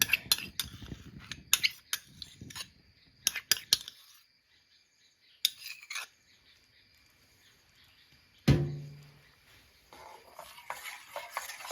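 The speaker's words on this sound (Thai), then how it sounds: "แล้วเราก็คนนะคะให้วิปปิ้งครีมเนี่ย มีความ ร้อนนะ แบบ ร้อนจน ใกล้จะเดือดนะคะ" Whipping cream is stirred in a pan over low heat, giving light scraping and tapping of a utensil against the pan in irregular bursts, with quiet gaps and one sharper clank.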